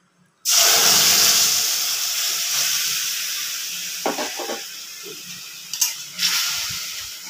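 Ground spice paste dropped into a hot pan with oil and tempered cumin seeds gives a sudden loud sizzling hiss that slowly fades, with a few light scrapes and clinks of a utensil later on.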